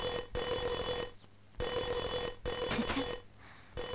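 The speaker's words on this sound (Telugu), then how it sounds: "ఫోన్ మోగుతుంది" A telephone bell rings in a reception office, sounding in repeated long bursts separated by short pauses, loud and close with no voices over it.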